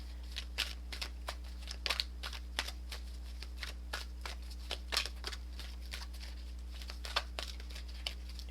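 Tarot cards are shuffled steadily for several seconds in a quick, crisp run of riffling snaps, close by over a low constant hum, with no voices.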